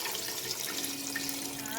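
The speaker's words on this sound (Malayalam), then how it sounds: "6 ഗ്ലാസ് വെള്ളമാണ് ഇതിലോട്ട് ഞാൻ ഒഴിക്കുന്നത്" Water pouring steadily into a cooking pot while making chicken mandi rice, a soft continuous splashing stream heard close up and alone.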